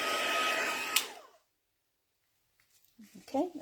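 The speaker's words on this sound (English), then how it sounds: "I'm just going to quickly put this ink with my heat tool" A craft heat tool blows a steady, loud broadband whoosh over stamped ink, cutting off abruptly after about a second and followed by near silence, then a few faint handling sounds and soft speech.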